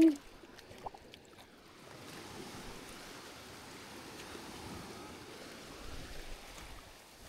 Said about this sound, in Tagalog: Ala, lakas ng alon!